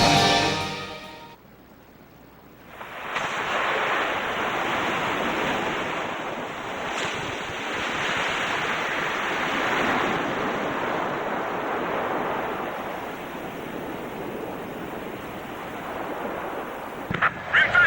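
Ace Combat 5 video game: the submarine Rimfaxi surfaces amid rushing waves and surf, a loud, continuous wash of water and wind that sets in after a brief lull and lasts to the end.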